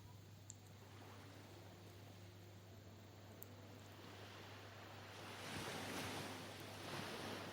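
Sea waves wash in and out on a shore, a soft, steady rush with wind noise and a low hum, swelling slightly louder toward the end.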